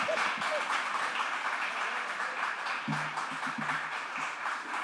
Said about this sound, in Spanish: Aquí se requieren los aplausos, en esta parte